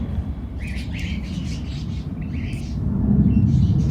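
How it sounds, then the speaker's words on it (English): Birds chirp outdoors, a scatter of short high tweets and calls repeating over a steady low rumble of background noise, heard from a moderate distance. "they're listening to the birds outside"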